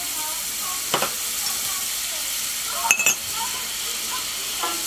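Butter melting in a skillet for a veal and mushroom dish, with a soft continuous sizzle and hiss and a couple of light utensil clinks.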